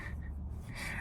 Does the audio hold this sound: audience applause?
no